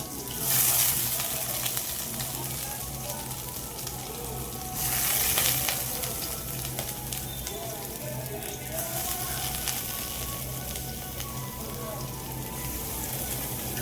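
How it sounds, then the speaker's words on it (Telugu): Soaked, drained meal maker soy chunks frying in a pan, a steady close sizzle with occasional stirring and brief louder bursts of spitting oil. "మిల్ మేకర్ని నీళ్ళలో నానబెట్టి మొత్తం నీళ్ళు తీసేసుకొని వేసేసుకున్నాం అండి"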